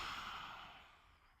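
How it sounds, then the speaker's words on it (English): A long, breathy exhale pushed out with the tongue stuck out during a yoga hip-opening practice, a soft airy rush that starts full and slowly fades over a second and a half, close and alone. "Maybe stick the tongue out and breathe out."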